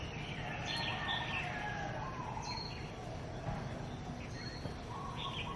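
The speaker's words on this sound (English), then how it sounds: "Sounds like birds and monkeys to me, but probably just birds." Birds call from a Hawaiian jungle, with scattered chirps and whistles repeating at a middle distance over a steady bed of ambient noise.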